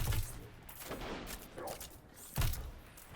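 Gunfire in the Destiny 2 video game, fired at an enemy inside the Scavenger's Den Legend Lost Sector: a few heavy, booming shots with a thudding low end, spaced across a couple of seconds over a steady background rumble.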